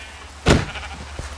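A single short sheep bleat from Minecraft, heard once at moderate loudness over a steady low game background with no talking.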